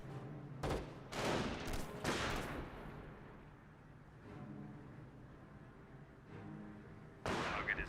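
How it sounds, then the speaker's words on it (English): Scoped sniper rifle shots in Company of Heroes amid a battlefield din of gunfire, with several sharp loud cracks early on and another burst near the end. "Does take a shot in the scope rifle."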